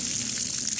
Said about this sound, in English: hearing the blood pour onto the floor.